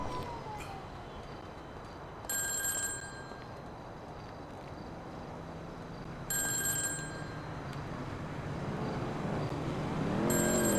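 A phone in GTA 5 Online rings in three separate bursts of bright electronic ringing, spaced several seconds apart, over a low background rumble of game vehicle noise.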